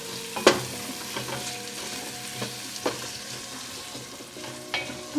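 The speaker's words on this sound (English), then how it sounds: "I'm gonna saute the curry right in with the onions and the potato" Curry being sautéed with onions and potato in a pot, a soft continuous sizzle broken by several sharp scrapes and knocks of a utensil stirring against the pot, close and without talking.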